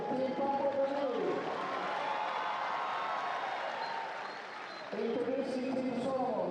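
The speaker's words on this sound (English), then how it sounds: "So let's give a big round of applause for Team Papua Guinea." Crowd applause and cheering fill an indoor arena for Team Papua New Guinea at a FIBA Melanesian Cup basketball game, a broad sustained roar that dips briefly and swells again, with voices mixed in.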